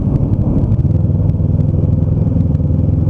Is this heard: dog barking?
no